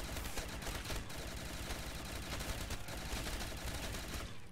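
Sustained light machine gun fire in the Call of Duty: Modern Warfare 3 Remastered custom zombies map Erosion: a dense, unbroken stream of loud shots with no pause for the whole stretch.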